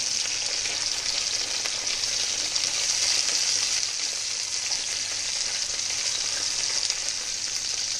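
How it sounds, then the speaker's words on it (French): Wood pigeon with raw sauerkraut sautéing gently in a pan over low heat, giving a steady, close, even sizzle with soft crackles throughout and no talking. "Je mets toujours à revenir à feu doux."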